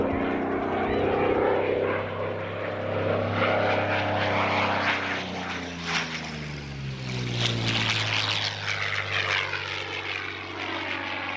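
A P-40N Warhawk piston fighter flies over an airshow, its propeller engine droning steadily and loud with a slowly shifting pitch as it passes, heard alone.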